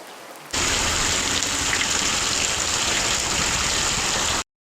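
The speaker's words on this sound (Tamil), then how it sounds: "அதான் மழை வந்து அடிச்சுட்டு போயிடுச்சுல்ல" Heavy rain pours in a dense, loud, steady hiss that starts abruptly after a quiet moment and holds unchanged for several seconds before cutting off sharply.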